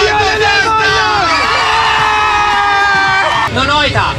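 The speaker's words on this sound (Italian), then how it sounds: "quindi un applauso per grazie" A large crowd of about a thousand people at a live event in Belluno cheers and whoops loudly throughout, a dense roar of voices with yells, rising near the end.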